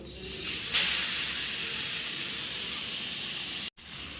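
Grated fresh coconut sizzles in a spoonful of ghee in a kadai, a steady close hiss that runs unbroken and cuts off briefly near the end.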